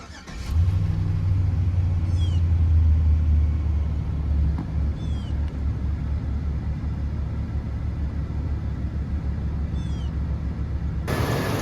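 A truck's 5.3 Vortec LS V8 runs at a steady, smooth idle, a continuous low rumble held close and even throughout, with a few faint high chirps above it and a brief louder burst right at the end.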